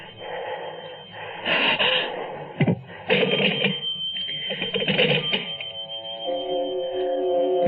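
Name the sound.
telephone bell ringing in radio drama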